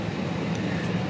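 Steady broadband cabin rumble inside a passenger plane waiting to take off for Barcelona, a constant low roar with a faint hiss, even and unbroken throughout.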